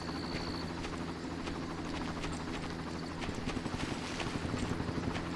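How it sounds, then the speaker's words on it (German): A helicopter in the video game Far Cry gives a faint, low droning hum beneath other game ambience, with a rhythmic chopping pulse growing more distinct toward the end. "Ein Helikopter ist zu hören."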